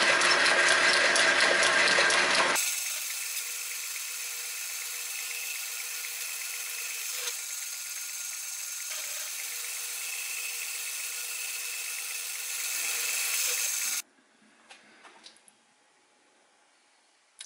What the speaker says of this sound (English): Here I'm turning down the outside to get the whole thing uniform.